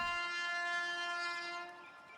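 Train pulling out of a station, a steady horn-like tone with strong harmonics sounding loud and continuous before easing off slightly at the end.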